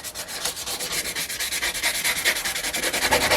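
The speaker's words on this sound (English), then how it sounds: "we need to do some fine sanding on this" Rhythmic back-and-forth rubbing of fine sandpaper on a suncatcher, a quick steady scratching stroke repeated many times, close and clear.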